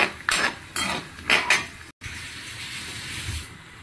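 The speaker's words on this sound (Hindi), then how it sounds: "ये मैंने मूंगफली फ्राई करने के लिए पहले तेल में डाल दी है और ये मूंगफली फ्राई हो रही है" Peanuts frying in oil in a pan, with a few sharp clinks of a utensil against the pan at the start, then a soft, steady sizzle and hiss close by.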